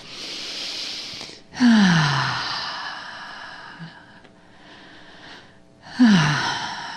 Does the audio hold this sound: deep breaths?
yes